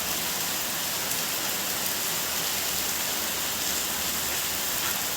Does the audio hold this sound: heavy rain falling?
yes